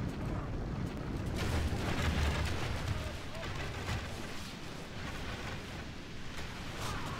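Siege weapons firing into enemy ranks during a Total War: Divide & Conquer siege battle, heard as a dense, continuous rumble of booming impacts and battle din, loud throughout and without pauses.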